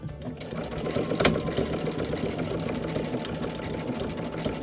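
A sewing machine stitches a scrappy Dresden quilt block with a blanket stitch, its close, steady mechanical whir running evenly and uninterrupted.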